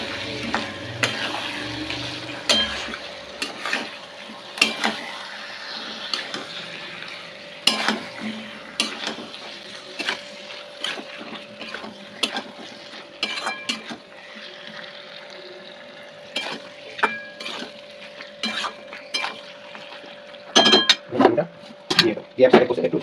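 Chicken sizzles while being sautéed in a pan for masala onion chicken, with steady frying hiss and frequent scraping strokes of a spatula stirring, growing busier toward the end; a voice speaks at times.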